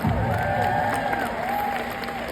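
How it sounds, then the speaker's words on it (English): Applause from an audience at a One Plexus corporate gathering fills the room in a steady, dense wash, with sustained tonal cheers or whistles rising above the clapping throughout. "Yeah, that deserves a round of applause."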